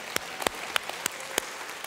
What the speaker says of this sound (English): This next round of applause is just for you.